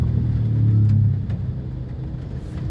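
Road traffic crawling along a flooded West Service Road, a steady low engine rumble with a louder vehicle revving nearby at first, then a duller drone of passing cars.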